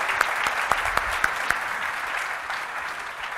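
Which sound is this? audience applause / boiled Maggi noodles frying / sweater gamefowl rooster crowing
audience applause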